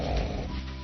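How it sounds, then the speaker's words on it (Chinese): A single loud human snore, a deep rasping breath drawn close up and lasting under a second, with nothing else around it. "我还是让你来感受一下呼噜的威力。"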